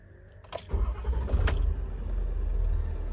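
A 2019 Ford F550 extended-cab 4x4 work truck with a crane body starts up: a brief key click and starter whir, then the diesel engine catches and settles into a steady, close idle rumble.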